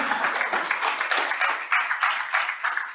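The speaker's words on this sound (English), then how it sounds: "Give yourselves a round of applause for being here" Audience applause at a healthcare hackathon opening ceremony: a steady round of clapping from many hands with pulsing swells, close and moderately loud.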